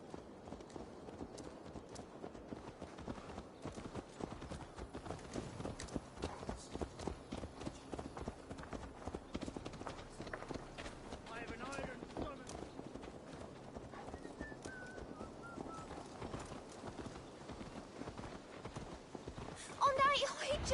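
Horse hooves clip-clop steadily in Assassin's Creed Valhalla, a rapid, continuous trotting rhythm at moderate level with a brief whinny near the end, while voices talk over it.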